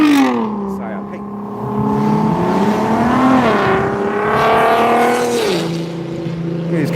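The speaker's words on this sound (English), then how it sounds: "Look at these car guys showing off." Car engines revving loudly nearby, rising and falling in long sustained pitch sweeps as drivers show off, with a steady roaring drone throughout and a voice speaking over part of it.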